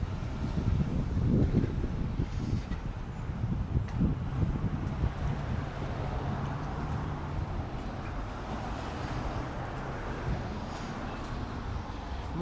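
Outdoors in the north end of Halifax in autumn, wind buffets the microphone as a constant low rumbling roar that swells and fades slightly throughout, with no talking.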